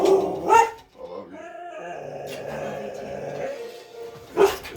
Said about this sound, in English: he's barking at TV already